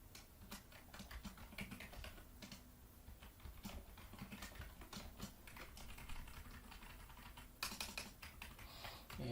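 Code is typed on a computer keyboard, a quiet, fast and irregular patter of key clicks that runs on continuously, with a louder flurry near the end and no talking.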